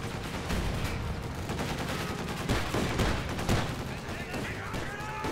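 Dense bursts of gunfire crackle through a World War II strategy game battle involving Panzers and an M20, with rapid overlapping shots and a steady rattle under a commentator's voice.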